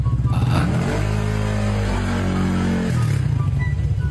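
A motorcycle engine revs up and holds a steady, loud, close mid-pitched drone for a few seconds before easing slightly, with no voices over it.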